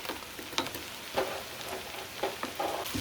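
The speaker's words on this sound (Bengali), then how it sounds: "এখানে দিব আমি 2 table spoon mustard oil. Keshu দিচ্ছি।" Cashews fry gently in mustard oil for butter chicken, giving a soft steady sizzle with a few light pops and taps, close and fairly quiet.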